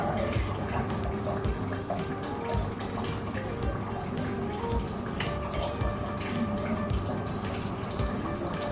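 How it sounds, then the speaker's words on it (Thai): Mineral water is poured into a drinking glass during a water filter demonstration, a continuous close trickling and splashing of liquid with faint dripping over a steady background. "แล้วก็เท น้ำแร่ลงไป"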